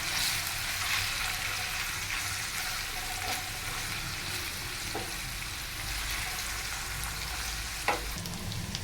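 Chopped onions fry toward golden brown in a pan, a steady, dense sizzle with occasional stirring scrapes and small pops, close and continuous with no talking.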